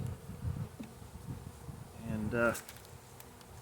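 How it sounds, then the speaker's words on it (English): Honeybees buzz close by during a March hive inspection, a steady droning hum with a brief louder pass, while a person speaks quietly over it. "A lot of old bees in there."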